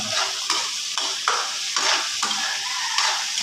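Squid and aromatics for adobo being sautéed in a pan, with a steady close sizzle broken by repeated scraping stirs about every half second, no talk.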